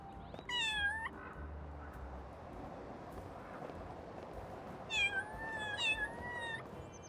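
A cat meows in the Little Kitty, Big City game: one rising-falling meow early, then a pair of quick meows near the end, high and clear over a quiet city background hum.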